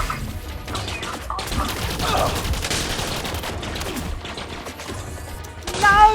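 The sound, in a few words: gunfire in Elite Dangerous video game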